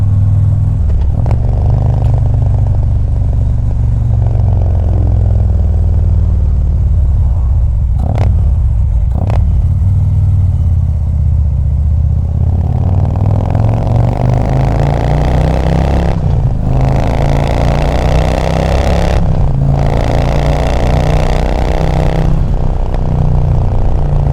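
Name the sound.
Harley-Davidson Street Glide motorcycle engine while riding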